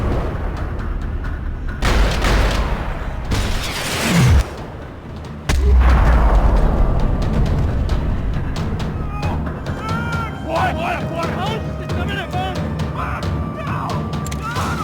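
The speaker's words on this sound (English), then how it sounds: "Another parking lot rattling with gunfire." Gunfire crashes through a parking lot in the action game Max Payne 3. Loud booming shots and heavy thuds land in bursts at close range, followed by scattered crackling impacts and debris.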